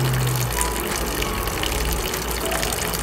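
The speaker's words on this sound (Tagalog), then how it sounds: "So, lalagyan ko na siya ng tubig." Water gushing into a cooking pot of braised pork belly, a steady close pour with a short low tone at the start.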